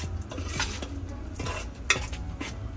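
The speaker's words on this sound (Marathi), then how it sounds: "असं पूर्ण ढवळून घ्यायचं" A spoon stirs a jaggery-and-water batter in a bowl with steady, scraping, clinking strokes, close and fairly loud, with one sharper knock near the end.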